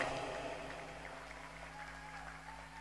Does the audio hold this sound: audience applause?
yes